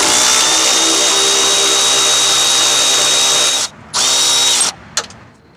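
A power tool with a 13mm socket spins out the dipstick tube bolt on a 1993-98 Jeep Grand Cherokee, a loud, steady high whine running several seconds, cutting out briefly, then resuming before stopping.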